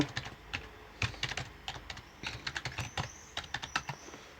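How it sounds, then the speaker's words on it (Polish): A password typed on a computer keyboard, a close run of quick, uneven key clicks in short bursts with brief pauses, alone with no talking. "czekajcie, bo ja muszę wpisać tu hasło"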